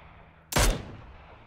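A single loud, sharp gunshot crack in the PUBG battle royale game, with a brief decaying tail and no talk.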